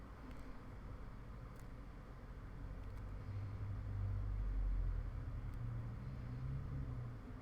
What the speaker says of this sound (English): Kind of surprised it sounds like traffic's picking up outside.